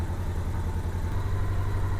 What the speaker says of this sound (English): So I'm going to let it idle and I'm going to let it warm up.